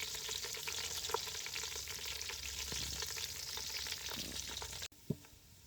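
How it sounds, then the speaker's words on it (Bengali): Chopped onion and garlic sizzle and crackle steadily in hot oil in a pan, with occasional stirring scrapes, close and continuous. "আর আমরা তো পেঁয়াজ আর রসুন ভাজছি, তার ভিতরে দিয়ে দিলাম।"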